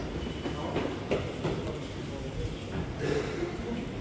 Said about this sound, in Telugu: అది మెట్రో ట్రైన్స్